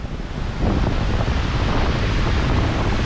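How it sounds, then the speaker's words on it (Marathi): A continuous roar of falling water, broad and rushing, as a cascade pours into Kedar Kund, a forest pool near Patnadevi, Chalisgaon, with no voices. "हे बघा एक केदारकुंडात पाणी पडतंय ना"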